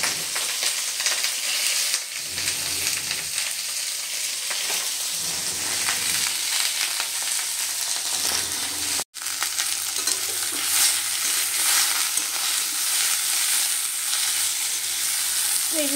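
Cabbage fries in a pan for a vegetarian cabbage dish, giving a continuous close sizzle with stirring scrapes throughout and one brief dropout midway.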